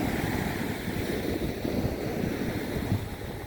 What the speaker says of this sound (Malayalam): ഞാൻ കാണിക്കാം തിരമാല എത്തി വരുന്ന ആ സമയത്ത്